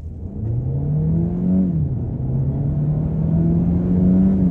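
A 2023 Hyundai Elantra Limited Hybrid accelerating from a standstill, a loud steady drone heard from inside the car that rises in pitch, drops briefly around two seconds, then climbs smoothly again with no speech.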